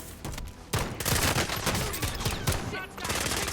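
Gunfire in the game Call of Duty Warzone, loud rapid bursts of automatic shots stacking into a dense rattling barrage after a brief lull, continuing to the end.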